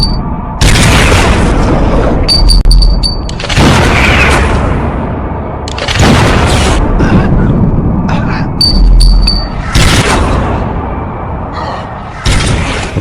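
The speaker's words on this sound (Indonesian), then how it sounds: "Mendengar suara tembakan, Anna dan yang lainnya bergegas melihatnya," Loud gunshots crack and boom in a zombie film, coming as several heavy, reverberant blasts spaced a few seconds apart, each followed by a long dramatic rumble.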